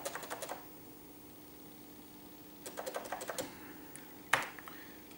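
Clicky keystrokes on a Pioneer PX-7 MSX home computer keyboard, quiet and close, coming in short bursts with pauses between them and one sharper isolated tap near the end.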